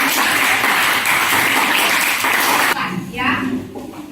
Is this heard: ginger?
no